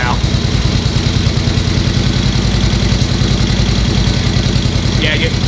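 Vintage Harley-Davidson motorcycle engine idles at low revs with a steady, loud, rhythmic chug that stays close and unchanging throughout.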